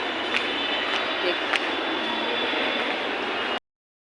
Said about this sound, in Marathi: मी आता मेट्रो स्टेशनवर आलेले आहे